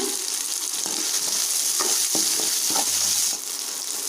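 Sliced big onion and curry leaves fry in a pan of hot oil, giving a steady loud sizzle with occasional stirring clatter and pops throughout.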